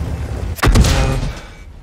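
In World of Tanks, an M8 tank fires at the player: a single loud, close cannon shot with a sharp crack and a booming tail that fades over about a second.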